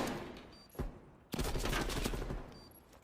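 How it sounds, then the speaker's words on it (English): Call of Duty gunfire during a competitive bomb-plant round: a sharp single shot followed by a dense burst of rapid rifle fire at moderate distance, with game ambience and small beeps around it. "Nice shots there from Krim"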